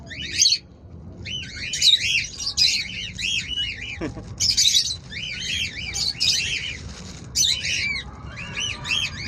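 Pet birds chirping and squawking noisily in repeated bursts of shrill, rasping calls close by, with someone talking underneath and a brief thump partway through.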